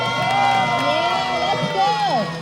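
Parents and children cheer and shout in a lively crowd at a kids' school sports day hopping race, voices rising and overlapping continuously from nearby, with excited calls throughout.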